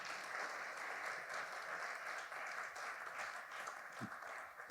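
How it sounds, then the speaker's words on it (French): An audience at a technical conference on tile and brick facades gives continuous applause, faint and distant, lasting the whole few seconds with no talk over it. "Merci Frédéric, vous pouvez applaudir."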